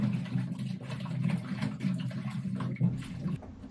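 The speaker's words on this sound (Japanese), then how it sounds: "泥のついているじゃがいもをきれいに洗います。" Muddy potatoes are scrubbed clean in a basin of water, giving a close, continuous swishing and sloshing with small splashes that ease off near the end, and no speech.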